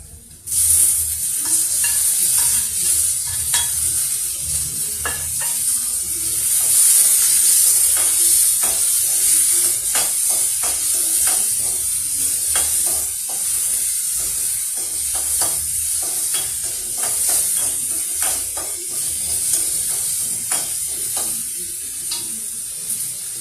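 Onions sautéing in a pan for mudavattukal root soup, a steady hiss and sizzle punctuated by frequent scraping stirs of a spoon, close and moderately loud, with no voices.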